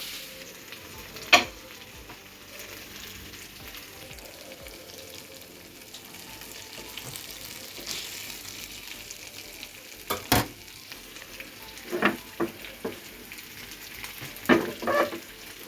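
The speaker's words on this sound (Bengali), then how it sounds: "মাছগুলো ভেজে নিব" Fish frying in a pan for a home dinner, a steady crackling sizzle throughout with sharp clatters and scrapes of a utensil at intervals, louder toward the end.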